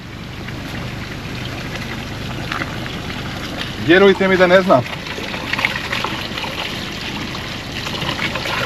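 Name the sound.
water running into a village trough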